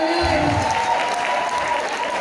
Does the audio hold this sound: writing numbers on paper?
no